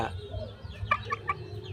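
A hen found in a rice field and now raising four chicks gives three short, close clucks in quick succession over a faint background.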